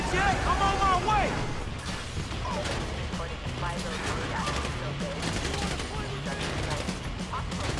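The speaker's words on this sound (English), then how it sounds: "I'm getting shot from behind." Gunfire rattles through a GTA V story mission in rapid, continuous bursts under a dense, loud game soundscape, with someone talking over the action.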